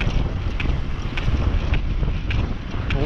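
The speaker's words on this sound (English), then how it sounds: "Definitely a little wind," Steady headwind buffets the microphone on a Bafang BBS02 mid-drive e-bike ride, a continuous low rumble and roar with occasional gusty peaks and no talking.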